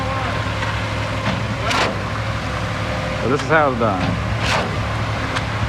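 Concrete truck and concrete pump engines drone steadily at a slab pour on a construction site, a constant low rumble running beneath someone talking.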